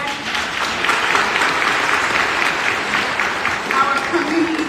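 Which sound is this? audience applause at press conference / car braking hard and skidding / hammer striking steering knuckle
audience applause at press conference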